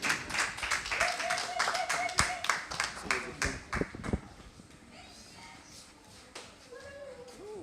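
Audience clapping at a French certificate-awarding ceremony for the end of a training course, a burst of scattered hand claps in the first four seconds that thins out, with voices and a tonal note underneath.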